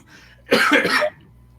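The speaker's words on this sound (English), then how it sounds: "Oh, damn that cough." One harsh, close cough bursts out for about half a second, rough and throaty, then the room falls quiet again.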